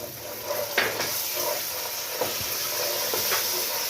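Butter sizzles in a pan of sweet lotus seeds, a soft steady hiss broken by a few light clinks and stirring scrapes of a spoon against the pan, close and without talk.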